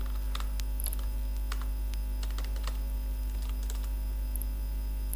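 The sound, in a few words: typing code on a computer keyboard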